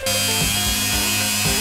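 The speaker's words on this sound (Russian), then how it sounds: "Здесь я его запускаю, что-то на конце крутится." A Mac Allister rotary engraver runs with its bit spinning, giving a steady, close electric whine and buzz with a few slight pulses in pitch. No one speaks.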